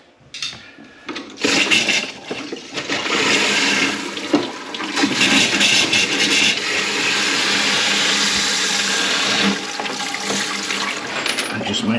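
A newly fitted concealed cistern toilet flushes loudly, a sustained rush of water that surges and runs steadily for several seconds with clattering bits, close up and with no talk over it.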